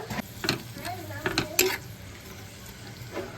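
Biryani ingredients fry in oil in a pot with a soft sizzle, broken by several clinks and scrapes of a spoon against the metal and a faint voice in the background.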